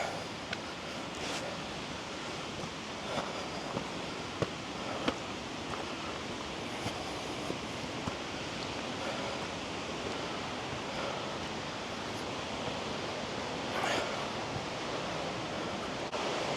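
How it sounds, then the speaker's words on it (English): Steall Waterfall in the Scottish Highlands roars as a broad, constant rush of falling water heard from a distance, mixed with wind buffeting the microphone and a few faint knocks. "You can hear the pure power of that waterfall down there now."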